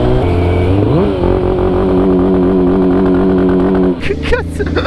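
A motorcycle engine rises in pitch and holds a steady loud drone up close, then a sharp clattering burst cuts in near the end.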